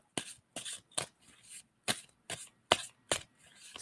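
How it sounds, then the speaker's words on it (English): Hand shuffling of a tarot deck, a handful of sharp papery riffles in an uneven rhythm, close up and alone. "tell me when to stop shuffling on that"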